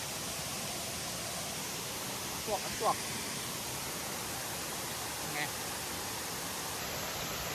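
Steady broadband rush of Erawan waterfall in Kanchanaburi, a constant even roar with a few faint voices briefly under it.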